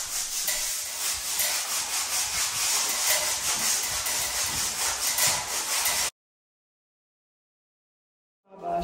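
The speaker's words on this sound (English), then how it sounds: "I began the process of sanding the cracks in the plaster I had filled the day before." Filled cracks in plaster being sanded by hand give a continuous close rasping scrape for about six seconds, then silence follows before a brief return of sound at the very end.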